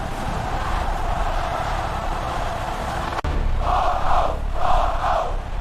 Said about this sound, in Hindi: भीड़ चिल्ला रही थी।